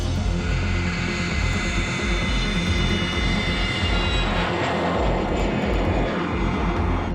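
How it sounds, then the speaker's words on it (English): A jet aircraft flies overhead with a loud, steady broadband roar. The engine rush holds for several seconds, with no other sounds. "within minutes, the jet was in the sky, zeroing in on the rego number"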